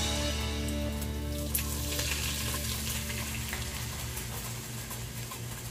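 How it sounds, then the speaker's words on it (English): Milk poured into a hot pan of butter and garlic, a steady loud sizzle and fry with a low hum beneath, continuous and close throughout. "Now what I'm going to add is my milk"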